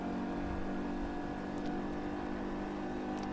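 A steady, continuous drone from an Audi TT RS engine cruising in the racing game Test Drive Unlimited 2, holding an even hum with no clear revs or shifts and no talk over it.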